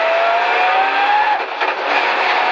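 A Volvo 240 EVO rally car idles and warms up close by, its engine a steady loud drone with a slight rise in pitch partway through, and no talk over it.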